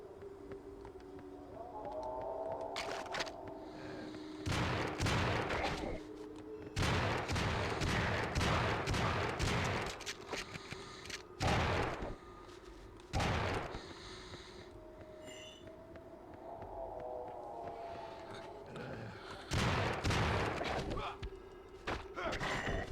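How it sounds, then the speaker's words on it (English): Super shotgun blasts in a video game, several loud broadband booms spaced a few seconds apart over a steady droning game soundtrack, with no talk. "And now I have a super shotgun."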